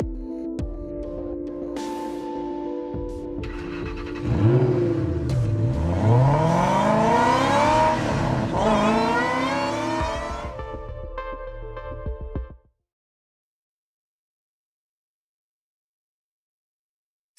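A car in the game Honkai Impact 3rd starts up and drives off, its engine rising and revving in sweeping pitch changes over steady road noise and a faint background hum, then cutting off abruptly into silence.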